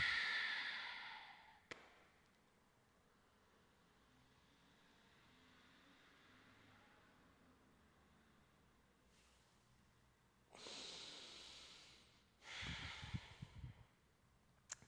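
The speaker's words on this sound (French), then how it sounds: "j'expire" Breath pushed out forcefully during nauli yoga practice: two strong rushes of air near the end after a long quiet stretch, close and fairly loud, with no talking.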